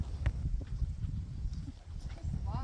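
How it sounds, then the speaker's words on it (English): Horses munch hay in a quiet homestead barn, with soft repeated crunching and low chewing close by, joined by occasional light knocks and shuffles. "listening to the sound of my horses munching on their hay"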